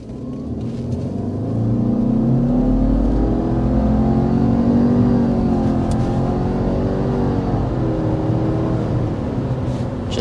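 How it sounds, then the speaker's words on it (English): A 2026 Subaru Outback XT under hard acceleration, a loud, steady engine drone rising in pitch as it builds speed, with a continuous low rumble and no voices. "But first, we need to start with a hard acceleration."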